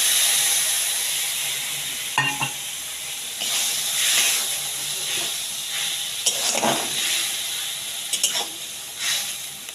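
Okra curry simmering in a pan just after a splash of water, giving a steady steamy hiss and sizzle throughout, with a few brief clinks of a utensil against the pan and no talking.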